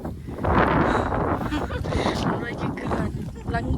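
Strong wind blasts across an outdoor viewpoint in a steady, loud roar buffeting the microphone, with people talking underneath.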